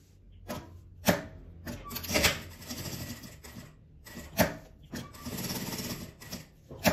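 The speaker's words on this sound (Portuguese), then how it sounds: "E vou costurar aqui a minha etiqueta." A sewing machine stitches a fabric label onto a handmade fabric clutch bag, loud close bursts of rapid mechanical whirring separated by short pauses and clicks, with no talking.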